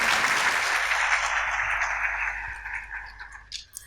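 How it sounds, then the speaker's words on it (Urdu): Audience applause for a faculty member at a university event, a burst of dense clapping that starts strong and gradually fades out over a few seconds. "بہت ساری تالیاں اس کے لیے"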